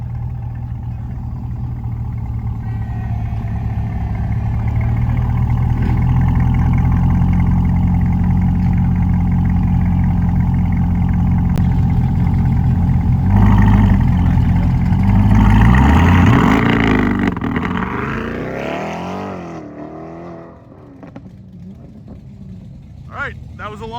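A C8 Corvette E-Ray with an AWE Track exhaust idles nearby, then launches with a loud swelling roar that climbs through rising revs and fades as the car pulls away, with people talking over it.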